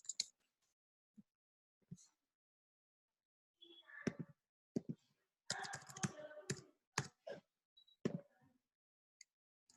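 Sparse, soft keystrokes on a computer keyboard, a few isolated taps followed by a quick flurry of typing and scattered clicks, faint and close in a quiet room.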